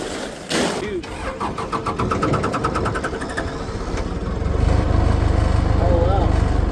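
A V8-swapped Mazda Miata engine starts up and settles into a loud, rough idle, the rumble swelling steadily louder near the end, with people talking nearby throughout.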